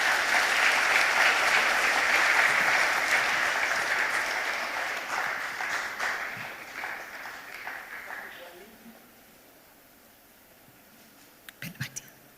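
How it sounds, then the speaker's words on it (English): An audience at an event applauds loudly and steadily, the clapping fading away after about eight seconds into near quiet, followed by a few brief knocks. "Let's give them a round of applause."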